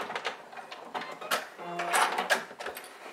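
A domestic sewing machine stitches a seam on fabric for a small bowling-style bag, giving short mechanical whirring bursts with clicks and faint rattles, fairly close and moderately quiet, with no talking.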